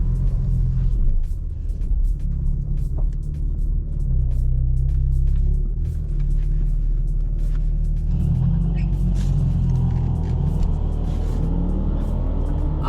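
A rear-wheel-drive BMW G82 M4 holds a deep, steady engine rumble on a drag strip while launch control engages, a loud continuous low drone that swells slightly in the second half with no talking.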